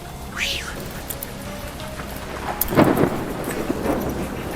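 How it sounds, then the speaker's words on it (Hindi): Rain patters steadily in a forest while a short rumble of thunder rolls through midway; a voice can be heard faintly in the background. "ऊपर से बारिश लगी है ताकि आपके लिए बहुत अच्छा माहौल बन पाए"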